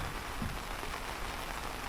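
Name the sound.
rain falling in England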